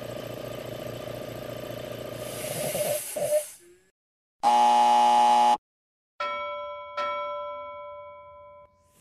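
An Agilent handheld multimeter's audible indicator sounds one loud, steady electronic beep lasting about a second, set apart by silence from noisy machinery before it and from tonal, buzzing sounds after it.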